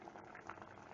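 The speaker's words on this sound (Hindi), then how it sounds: "मिनट के लिए हाई फ्लेम पे बॉईल कर लेते हैं।" Lamb brain boiling in a pot of water on high flame, a faint, steady bubbling simmer with no voices.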